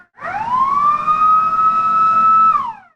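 A fire engine siren wails loudly and close as a rural fire crew departs on a call to burning stubble at an abandoned farm, one long sustained rising then steady tone that drops away at the end.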